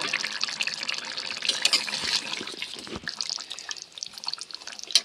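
Water pours into gravy simmering with potatoes and puffed rice in a cooking pan on low heat, a steady close splashing and trickling that runs throughout with small dips, no voices.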